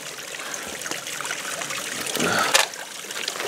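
Water trickles steadily while bottles are filled at a stream during a hike, a continuous soft gurgle with a brief louder splash near the end, no talking.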